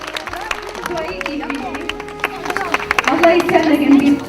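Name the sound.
crowd applause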